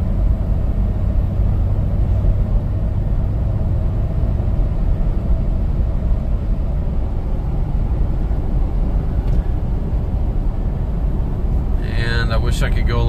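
A Lexus LX470 SUV on the road at about half throttle, a loud steady engine drone and road rumble from inside the cabin, continuous throughout with someone talking over it.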